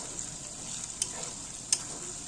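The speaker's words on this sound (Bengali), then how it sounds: "পেঁয়াজটা আমি লাল লাল করে ভেজে নিলাম" Onions frying in a pan until reddish for a meat curry give a steady, close sizzle, with two sharp clicks of stirring partway through.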